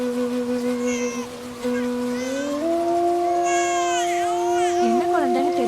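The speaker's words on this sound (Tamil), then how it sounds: "குழந்தை அழுகுற சத்தம் கேக்குது." An infant cries with a sustained wailing tone that rises in pitch partway through, alongside fainter babbling and whimpering, fairly close, in a film scene.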